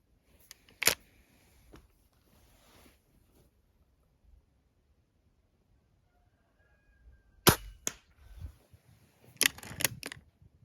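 A sharp IZh-38 air rifle shot cracks out early, followed by quiet, then a cluster of several more sharp clicks and mechanical snaps near the end.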